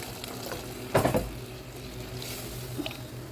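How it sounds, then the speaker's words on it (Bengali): Boiling hot water pours into a pot of lentils fried with spices, giving a sudden loud sizzling hiss that fades to a soft steady bubbling simmer. "এখন এখানে ফুটানো গরম পানি দিয়ে দিব এবং ডালটা সেদ্ধ করে নেব।"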